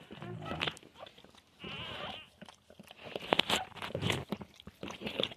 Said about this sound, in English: Just chew it off right there, Ollie.